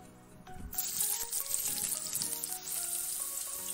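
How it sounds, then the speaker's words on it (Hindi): Sliced onions sizzling and frying in hot oil for egg biryani, a steady close crackle with occasional stirring clinks, no talking. "ये मैंने यहाँ पे अनियन लिए तो इसे फ्राई कर लेते हैं बिरयानी के लिए"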